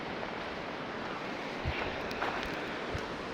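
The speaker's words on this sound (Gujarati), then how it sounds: "પાણીનો બહાવ બહુ વધારે છે" Strong river current rushes beneath a bridge near Vijapur, a steady broadband roar of water with a few soft thumps and splashes, loud and continuous with no talking.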